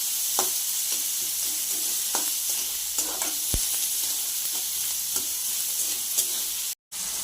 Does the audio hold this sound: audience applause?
no